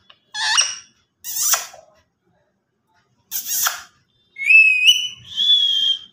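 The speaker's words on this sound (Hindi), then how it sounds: "हमको सीटी बजाना नहीं आता है मिठू हम सीटी नहीं बजा पाते हैं" Pet parrot whistling and squeaking indoors, a few sharp chirps followed by longer rising and steady whistled notes, close and clear with quiet gaps between calls.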